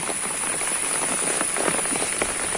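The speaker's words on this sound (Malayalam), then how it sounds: "ആ മഴ ശക്തമായിട്ട് തുടരാണ്. നല്ല കാറ് കുത്തി മഴ പെയ്യുന്നുണ്ട്." Heavy rain pours steadily, a dense even hiss of drops hitting surfaces close by.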